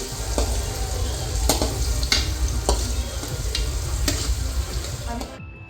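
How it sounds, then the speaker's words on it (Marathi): Two large chopped onions sizzle and crackle steadily as they sauté in a pan for a jackfruit vegetable dish, with sharp clicks of the spatula stirring through the frying before it cuts off. "दोन मोठे चिरलेले कांदे हे चांगलं परतून घ्यायचं"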